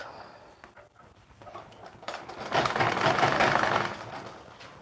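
A sewing machine stitches a skirt seam, its motor whirring in a rising, steady run of rapid needle clatter, preceded by quieter handling knocks, with no one talking.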